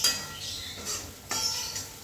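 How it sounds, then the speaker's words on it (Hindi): Dry spices stirred and toasting in a pan for a spicy potato curry; quiet scraping and light clinks of a spoon against metal come in short strokes over a faint background sizzle. "अभी कुछ सेकंड इस तरह से हम चलाते हुए सूखे मसाले को पकाएंगे।"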